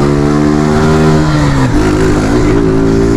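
A modified FAN 150 motorcycle engine revs hard and loud nearby, its pitch climbing, dipping sharply, then rising again in an uneven, throaty sweep.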